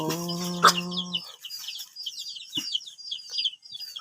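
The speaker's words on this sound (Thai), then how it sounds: "โอ้ไก่ลาย" A chicken gives a loud, sustained squawk followed by a run of quick clucks and scattered chirps close by outdoors in a forest village setting, with no talk.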